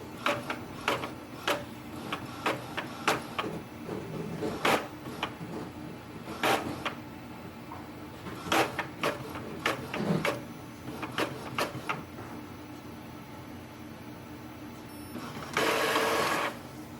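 An Epson WF-2930 inkjet printer making a color copy: a long series of sharp mechanical clicks and print-head passes at an irregular rhythm, loud and close, ending in a brief whirring rush of the paper feed.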